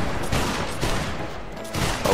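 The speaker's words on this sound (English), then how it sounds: "Make ready, take aim, fire." A musket line volley in the video game Battle Grounds III, a dense crackling fusillade of many shots fired together, loud and sustained with a ragged burst that swells again near the end, no voices over it.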